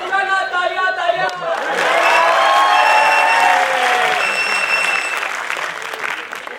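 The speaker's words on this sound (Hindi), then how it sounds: "तालियां तालियां" An audience at a national conference applauds a mock forensic audit skit, with dense clapping swelling after a brief spoken introduction, staying loud through the middle, then easing off as the clip ends.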